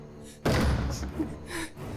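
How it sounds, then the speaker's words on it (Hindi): A single heavy thud against a door lands up close, followed by faint movement and hushed background noise. "दरवाजा खटखटाना बंद करो।"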